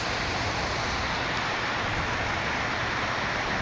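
Steady, dense rain hissing continuously throughout, loud and close, with no voices over it.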